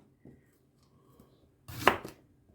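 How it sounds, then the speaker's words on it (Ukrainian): A knife cuts thin fresh zucchini into rounds: one crisp, close slice lands after near silence, with a faint tap just before it. "І так буду нарізати кружальцями"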